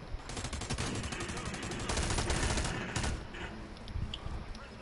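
Shotgun blasts in a PS4 video game firefight, dense bursts of loud gunfire crowding the whole stretch with a sharp cluster of shots near the end, over busy game noise.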